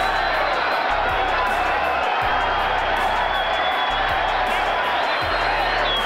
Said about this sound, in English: Very appreciative crowd here in Las Vegas.